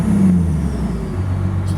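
A 1996 Dodge Ram with a 12-valve diesel engine runs steadily nearby, a loud low rumbling drone with no voices over it.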